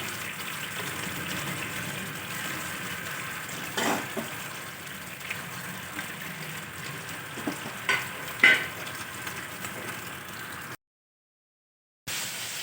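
Small fish sizzle and fry steadily in a pan after salt and sugar are added, a continuous close crackle with a few louder clinks and stirring bumps, no voices.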